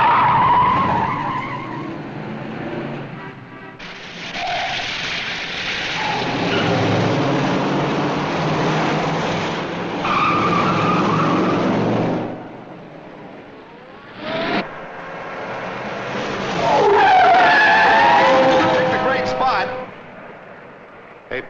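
Car tires skid and squeal with engines revving in a 1958 movie race scene, repeated loud screeches rising and falling, with people talking between them.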